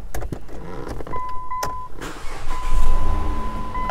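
Power windows on a 2010 Dodge Journey SXT whir up and down inside the cabin, a steady electric motor whine running through most of the moment, ending in a louder rumbling thunk.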